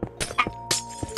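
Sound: glass breaking

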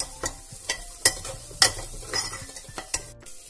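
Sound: onions with turmeric and chili powder being fried and stirred

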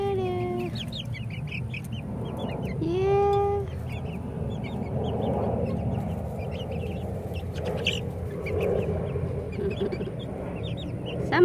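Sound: four-week-old Ameraucana chickens clucking

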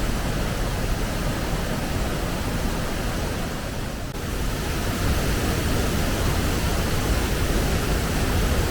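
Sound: Kanchenjunga Falls waterfall in Sikkim

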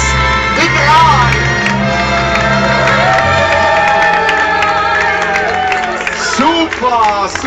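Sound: standing ovation with cheering in a restaurant

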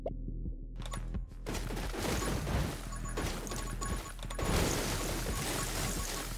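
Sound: explosions in the video game 10 Minutes Till Dawn

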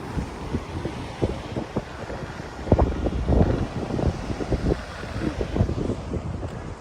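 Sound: wind

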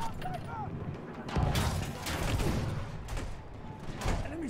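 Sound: tank cannon shots at a field gun in Battlefield 1 video game

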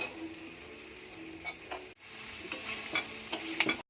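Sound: ridge gourd and lentils being stirred and fried

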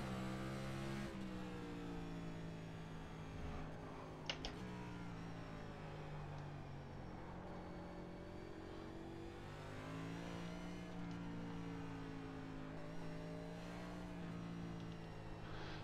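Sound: Mazda MX-5 race car engine in iRacing video game

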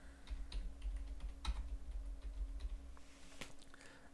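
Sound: typing on a computer keyboard

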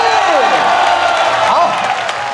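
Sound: applause from baseball crowd

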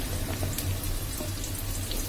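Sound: onions added to a hot pan for chilli chicken

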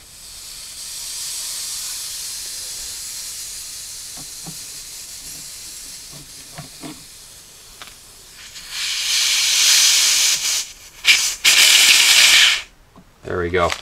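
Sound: nitrogen hissing out of evaporator core plugs

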